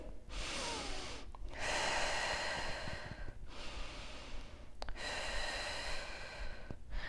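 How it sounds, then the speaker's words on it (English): Slow, deep diaphragmatic breaths with the back and spine pressed against a wall during a low back exercise, three long airy inhale-exhale cycles, close to the mic and fairly loud, with no talking. "In this position, just breathe diaphragmatically."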